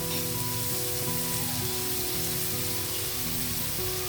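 Sliced onions with salt and turmeric fry in hot oil for a fish curry, giving a steady, close, loud sizzle and crackle with a faint hum running beneath it.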